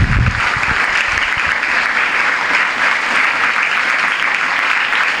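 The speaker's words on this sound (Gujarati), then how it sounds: "તમે પણ એકવાર તાળી પાડો તમારા જાત માટે." Students at a scholarship event at Purusharth Vidhyaniketan, Bhanvad, applaud themselves in a loud, steady burst of clapping from a large group that fills the room without a break.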